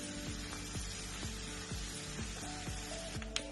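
Onions cook down in a pan with a steady, close sizzle and crackle, with a stirring scrape coming back in a regular rhythm through the frying.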